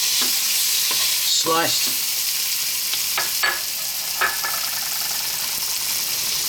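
Ribeye steak sizzling hard in a hot pan with the heat just switched off, a steady bright crackle broken by a few sharp utensil clicks and scrapes, with one brief spoken word.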